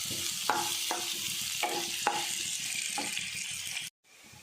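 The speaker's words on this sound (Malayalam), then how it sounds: "ഈ അരിഞ്ഞ് വെച്ചേക്കുന്ന സവോള ഇട്ട് കൊടുക്കുന്നുണ്ട്" Chopped onions sizzle steadily in a hot pan, with a few soft stirring scrapes at regular intervals, close and moderately loud, before the sound cuts off abruptly near the end.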